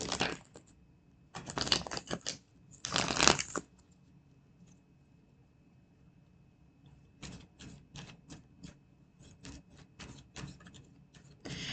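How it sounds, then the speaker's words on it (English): Crisp riffling card shuffles in quick bursts, a pause, then a longer run of lighter flicking and tapping cards, close and fairly quiet. "One more shuffle."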